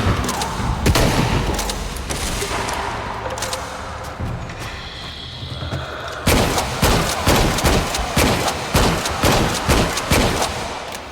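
Gunfire rattles in Shadow of the Tomb Raider: scattered loud shots and booms, then rapid, evenly spaced automatic machine-gun bursts pounding close and loud in the second half.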